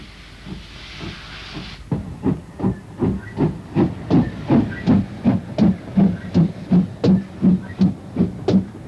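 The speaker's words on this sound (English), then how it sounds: "a GWR Hall-class loco departs with another train to Kidderminster Town" Near and loud, a GWR Hall-class steam locomotive leaving Bewdley with a train for Kidderminster Town lets out a long hiss of steam, then settles into sharp, regular exhaust chuffs that grow more forceful.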